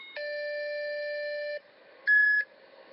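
Electronic station door-warning tones at an outlying rail stop: a steady multi-pitch chime sustained for about a second and a half, a short gap, then a brighter, louder second tone, clear and close with faint background hum.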